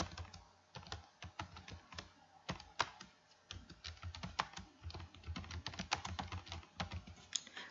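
Quiet, steady typing on a computer keyboard, a rapid stream of soft clicks and key taps close by.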